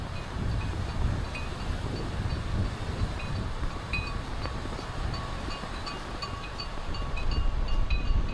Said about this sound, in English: maybe even too much wind